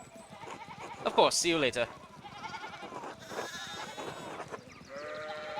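Sheep bleating in the medieval video game Pentiment, several wavering bleats loudest early and recurring, mixed with people talking.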